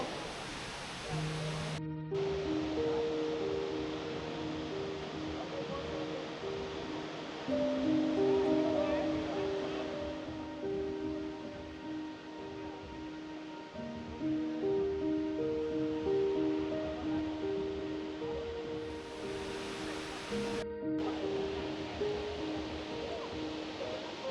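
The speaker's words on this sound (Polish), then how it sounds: "Ale piękny, piękny wodospad." Steady rushing roar of the Tumpak Sewu waterfall fills the scene, a constant broadband wash with music playing over it.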